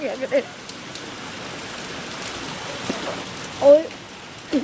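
A steady wash of rain falls throughout while a few brief voice fragments rise faintly above it.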